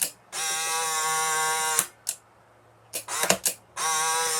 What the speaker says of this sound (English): So if I fire the shutter,